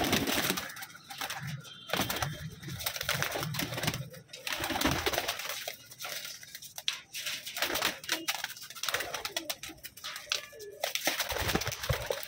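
Tatire Madrasi pigeons coo in a loft, their soft rolling calls repeating close by over a busy bed of wing flutters, scratching and background noise.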